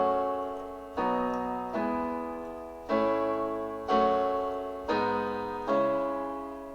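Piano playing a chord progression at full tempo, six sustained chords struck about once a second, each ringing and slowly fading, clear and close with no talking.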